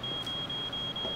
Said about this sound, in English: Oh man, I think it's my pager